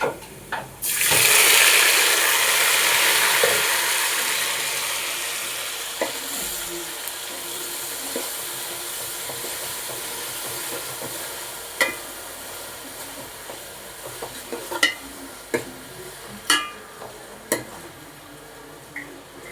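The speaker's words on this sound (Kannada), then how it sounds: "ನೋಡ್ರಿ, ಇವಾಗ ಟೊಮೊಟೊ ಹಾಕ್ಕೊತಾ ಇದ್ದೀನಿ." Tomatoes hit hot oil in a pan while cooking chicken biryani, giving a loud initial hiss that settles into a steady sizzle, broken later by a few sharp clinks of a spoon against the pan.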